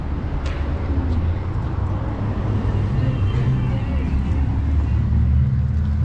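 A car driving past on a street lined with pine trees in Flagstaff, a steady close engine and tire rumble that fills the whole stretch, with people talking over it.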